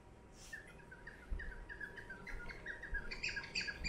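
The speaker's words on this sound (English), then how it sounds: "The chirping bird." Small bird chirping repeatedly in a quick, irregular series of short, high calls over a steady outdoor background hum at a riverside spot, moderately close and growing busier toward the end.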